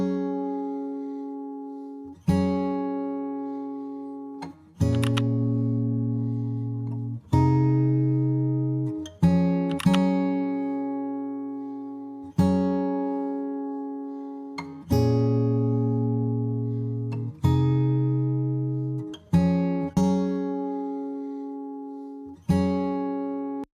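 Acoustic guitar recording with EQ toggled on and off: strummed chords ring out in a steady sequence of about ten strikes, each decaying before the next, with no talking.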